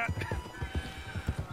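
Horse hooves in Red Dead Redemption 2, a steady galloping clip-clop with regular low thuds, moderately loud beneath faint background voices.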